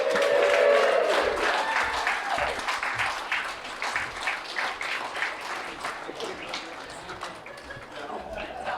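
Guests at a retirement party for a town manager break into sustained applause with scattered cheers, a busy room of clapping that slowly thins out.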